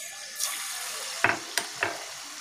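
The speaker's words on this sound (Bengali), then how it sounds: "পনিরের পিস এগুলোকে আমরা গোলার মধ্যে চুবিয়ে এইভাবে তেলে ফ্রাই করে নিই" Batter-dipped paneer pieces fry in oil, a continuous sizzle broken by a few sharp clinks and scrapes of a utensil against the pan, close and alone with no talk.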